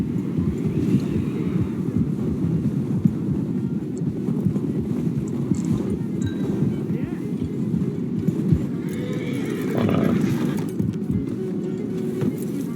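A horse in the video game Red Dead Redemption 2 plods through knee-deep snow, hooves thudding in a steady rhythm up close with soft wind noise, and a brief neigh near the end.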